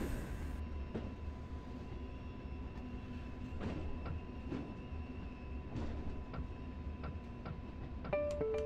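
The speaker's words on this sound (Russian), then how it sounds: "Состав стронулся." A freight train in Train Sim World 2020, hauling wagons behind a BR155 locomotive, starts to roll. A low steady rumble comes with faint rhythmic ticking and clicks, and a few electronic cab tones sound near the end.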